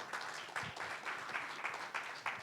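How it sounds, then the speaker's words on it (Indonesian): A church congregation applauding during a worship service, steady clapping with rhythmic swells throughout, no voices standing out. "Berikan tepuk tangan buat Tuhan kita saudara"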